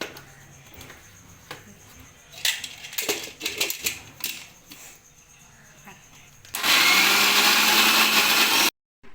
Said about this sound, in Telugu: ఈ బెబ్బర్లు గ్రైండర్కి వేసుకున్నా